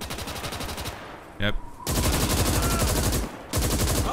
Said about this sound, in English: I think there was one more shooting at our guys. With a PPSH up here.